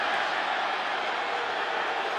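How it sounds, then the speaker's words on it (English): A football stadium crowd at an NFL game between the Bills and the Falcons roars in a dense, continuous wall of noise, loud and sustained throughout. "Crowd wants a flag for a late hit."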